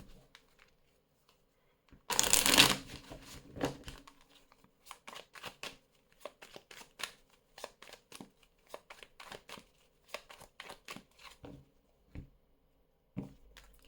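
Oracle cards are shuffled up close. A dense riffling burst is followed by many short, irregular papery slaps and flicks, with near silence between them.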